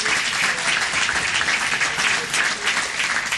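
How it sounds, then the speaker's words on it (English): A city council chamber audience claps for the Citizen of the Month, a loud, unbroken roll of applause from many people lasting throughout, with no talking over it. "So let's give her a round of applause."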